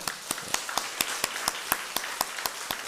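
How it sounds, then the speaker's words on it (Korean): Church congregation giving applause to volunteers, heard as a steady run of evenly spaced, crisp hand claps, fairly close and moderately loud, with no voices. "우리 지금까지 우리 승리 다문화 교회를 위해서 수고하신 분들을 위해서 아낌없이 박수 한번 할까요?"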